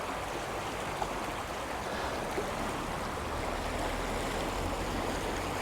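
River rushing past riverside benches along the N59 road near Galway, a steady, dense wash of flowing water close by with no break and no voices.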